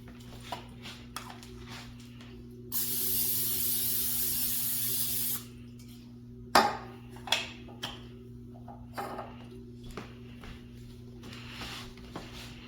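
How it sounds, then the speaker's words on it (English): A steady hiss of cooking spray onto a fudge pan runs for a couple of seconds, followed by a few light clinks and taps of the pan, fairly quiet overall. "I'm going to spray my pan."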